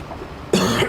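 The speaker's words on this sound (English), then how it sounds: "Coughing all over chat again." A single sharp, close cough breaks out halfway through after a quiet room-tone lead-in, loud and abrupt before trailing off.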